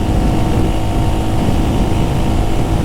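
A 2025 Royal Enfield Hunter 350 motorcycle rides at speed in fifth gear, heard as a loud, steady engine drone blended with wind rush, close and unbroken, with no speech.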